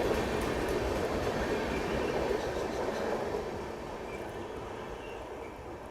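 The Chennai Mail pulls out near Balasore (Baleshwar), a steady rumbling rail roar with rolling wheel noise heard from nearby that slowly fades as the train moves away.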